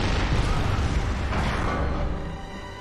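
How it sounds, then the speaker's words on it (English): Cannon fire in the video game Bloodborne during the Micolash boss fight, a loud dense booming blast that rumbles and decays over a few seconds, heard alone. "with the good old cannon."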